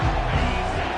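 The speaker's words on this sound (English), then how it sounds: "this crowd will blow out a vocal cord to help this defense" A stadium crowd roars at a college football game on a third down, a dense, loud wall of cheering and yelling that fills the moment without letup.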